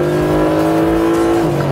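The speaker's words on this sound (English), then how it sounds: "Oh, that engine noise." A Mercedes SLS AMG's high-horsepower V8 revs hard under full throttle on a race track, a loud, steady engine drone rising in pitch, then briefly dipping as it shifts and keeps pulling, close and alone.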